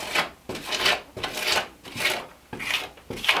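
A small trowel scrapes and rasps over clay daub on a log cabin wall, six rhythmic strokes about half a second apart, each a close, gritty swipe.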